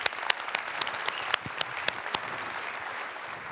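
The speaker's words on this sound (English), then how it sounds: "a huge round of applause to PBK and all the organizers" Steady, moderately distant applause from a conference audience at Mobilism 2012 for the organizers, a dense even wash of clapping with a few sharper individual claps standing out.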